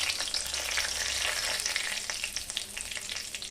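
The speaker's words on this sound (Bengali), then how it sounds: "ফোড়নগুলো আমার ভাজা হয়ে গেছে" Whole spices and a bay leaf fry in hot oil for cabbage chicken curry, giving a steady, close, bright sizzle with small crackles and pops throughout and no voices.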